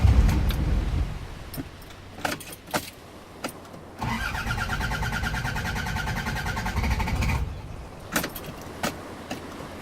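A car engine is cranked but refuses to start: scattered clicks and knocks, then a few seconds of sustained whirring starter churn that stops abruptly, followed by more clicks.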